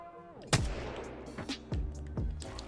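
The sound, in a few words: R-301 rifle gunfire in Apex Legends video game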